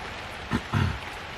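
On a rainy day, a steady hiss of falling rain fills the background, with a couple of brief louder splashes or patters standing out for a moment.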